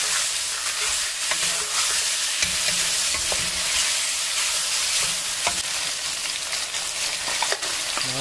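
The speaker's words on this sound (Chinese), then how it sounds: "把洋葱爆香，青葱爆香，这样炒2分钟以后，五花肉微微变色" Onion, scallion and pork belly stir-fry in a wok for a Shanghai-style braised pork dish. A loud, continuous sizzle carries sharp clanks and scrapes of the spatula against the metal, with short bursts of hiss.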